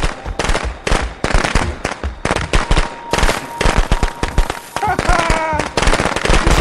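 Firecrackers go off inside the Friday the 13th video game in a dense, loud, rapid string of sharp cracks and pops that keeps going almost without a break.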